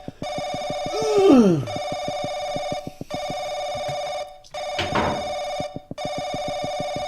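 A telephone rings in the horror video game Paranoiac, repeated electronic bell tones in regular bursts with short gaps, loud and close, while other in-game sounds such as a sliding whoosh cut in between rings.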